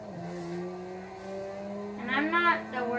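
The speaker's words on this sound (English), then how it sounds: "I'm using an RX-7 Mazda. It's an awesome car." A stick-shift Mazda RX-7 drives in the racing game Forza Horizon 4. Its engine holds a steady drone, then revs and climbs sharply with a brief tire squeal near the end.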